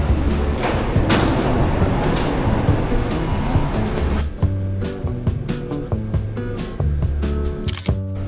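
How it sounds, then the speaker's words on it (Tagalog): A slow, small sightseeing train pulls into a station at Taipei Zoo with a steady rolling rumble and hiss, then settles into quieter clunks and mechanical tones after arrival, close by with no talk. "Ito na ang kanilang cute na train."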